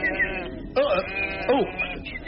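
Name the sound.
sheep bleating while being attacked by a dog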